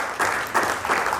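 Audience applause at a Hindi haiku poetry anthology launch, a short steady burst of many hands clapping with slight swells, filling the room without talk.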